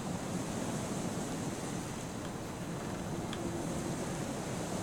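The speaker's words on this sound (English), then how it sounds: "No, that's a river." Steady broadband rushing of a river flowing nearby, a continuous wash of water noise with no breaks and no voices over it.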